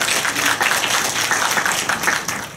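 An audience at a talk on home renovation and personal space design claps steadily, a continuous wash of applause from a room full of people with no break.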